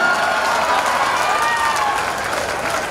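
Audience clapping at a Hindi comic poetry recital by Dr. Surendra Dubey: steady, dense applause fills the hall throughout, with a few voices calling out within the crowd noise.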